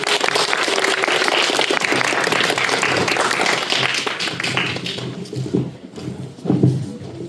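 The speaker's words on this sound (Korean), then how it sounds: "모두 박수로 말씀해 주시겠습니다." An audience at an embassy information session claps in a steady round of applause that thins out after about five seconds, leaving scattered claps and shuffling.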